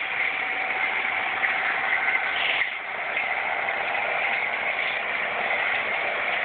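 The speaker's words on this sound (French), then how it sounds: "Le tracteur très fort." A tractor engine runs loudly and steadily, a continuous droning hum with a brief dip in level partway through, close by and with no voices over it.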